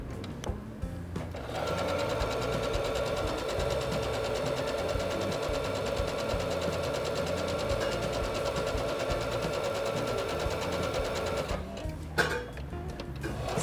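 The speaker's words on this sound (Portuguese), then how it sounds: "Vou unir direito com o direito da peça e vou passar uma costura reta," A sewing machine stitches a straight seam through fabric in one continuous, rapid mechanical chatter for about ten seconds. It starts and stops with brief handling noises at each end, with no talking.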